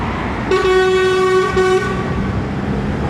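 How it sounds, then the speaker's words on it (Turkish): A single loud courier vehicle horn blast sounds for just over a second, with a short break partway through, over steady background rumble. "Abi ko Kornaya bastım da bunlar gitmiyor ki."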